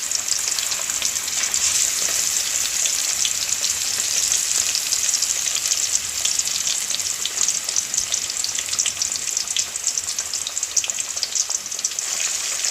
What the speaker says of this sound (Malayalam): ഇനി ഇതിലേക്ക് നമുക്ക് ഫ്രൈ ചെയ്യാനുള്ള മീൻ ഇട്ട് കൊടുക്കാം.